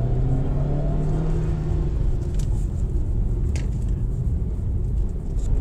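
A 2024 GAC Emzoom GS3 accelerates, its engine a steady low rumble and drone from inside the cabin, with road noise and a slight rise in pitch.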